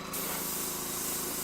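A steady, close hiss of spray paint laying down a white base coat on a scale model of the Defiant runs continuously without pause, with no talk.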